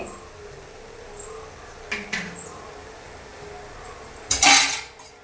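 Thoran being stirred in a pan with curry leaves and raw coconut oil: faint sizzling broken by a couple of quick metal scrapes and then a louder clattering stir near the end.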